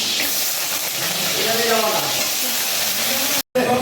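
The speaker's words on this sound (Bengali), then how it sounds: "আলুগুলো ভেজে নেব, পনিরের আলুগুলো ভেজে নেব," Potatoes frying in oil in a pan give a constant, close hissing sizzle that fills the whole stretch, with faint background voices murmuring underneath and a brief cut near the end.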